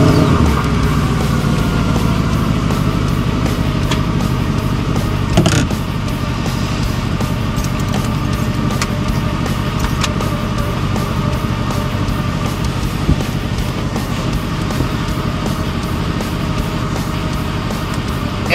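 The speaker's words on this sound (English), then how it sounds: "If you want, you can start engine." A Mercedes-AMG SLS Black Series engine runs loud and steady at a track day at Willow Springs International Raceway, a continuous close rumble with a brief surge near five seconds.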